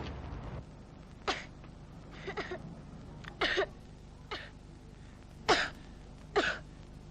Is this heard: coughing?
yes